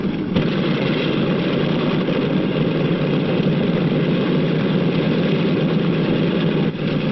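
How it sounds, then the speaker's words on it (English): Propeller airliner engines from the late 1940s running steadily as the plane taxis across an airport toward the runway, a loud continuous droning roar with no speech. "The plane starts over to the runway."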